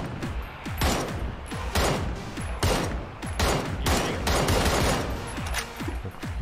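Rapid gunfire in the PUBG video game, loud and close, with repeated bursts of shots in a steady rhythm across the whole stretch.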